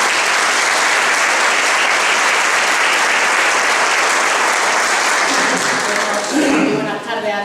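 A seated audience at a historical memory day event breaks into loud, sustained applause, dense clapping that fills the room and tapers slightly near the end.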